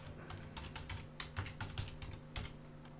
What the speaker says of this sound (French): Donc ici, je tape aussi console log